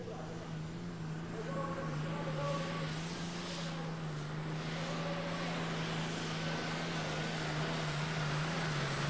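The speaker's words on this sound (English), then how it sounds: "The Superstock division has an attraction all of its own, with plumes of dense black exhaust smoke and whining turbos" Turbocharged Superstock diesel pulling tractors at a tractor pull whine steadily under a continuous loud engine drone, with the whine holding throughout.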